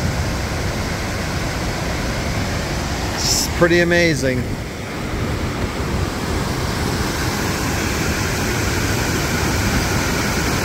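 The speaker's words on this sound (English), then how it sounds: "and the waterfall's here" Waterfall at Tamarack Bridge in Yosemite, a steady broadband roar of falling water filling the whole stretch, with a person speaking briefly over it partway through.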